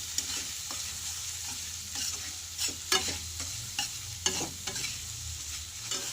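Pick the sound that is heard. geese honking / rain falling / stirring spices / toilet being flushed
stirring spices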